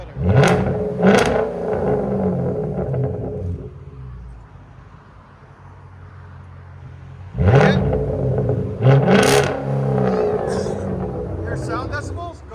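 A 2009 Hyundai Genesis 4.6L V8 with an X-pipe and straight-pipe exhaust blips its throttle in two loud revving bursts, falling back to a low idle rumble between them, with a later rev trailing off.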